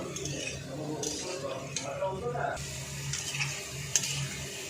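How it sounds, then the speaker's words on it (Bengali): Potatoes, two large ones, frying until reddish-brown in oil in a home kitchen, with steady close sizzling and repeated stirring scrapes of a spatula, a few brief clinks of utensil on pan. "আলুটা একটু লাল লাল করে ভেজে নেব"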